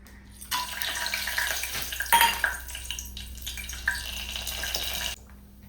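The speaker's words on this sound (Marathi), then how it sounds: "हे तेल उडतंय हा तडतडतड" Hot oil spits and crackles in a pan as cloves and black pepper are dropped in for a Kolhapuri mutton dish, a dense sizzling burst that fades at the end.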